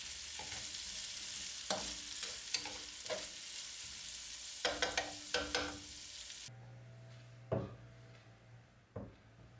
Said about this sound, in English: Add the garlic to the pan with the bacon and onions and saute briefly.